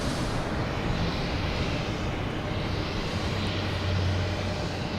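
A fixed-wing airliner in special livery roars steadily at Boston Logan Airport, a loud, continuous broadband engine rumble that fills the whole stretch without pause and with no talking over it.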